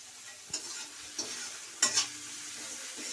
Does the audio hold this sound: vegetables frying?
yes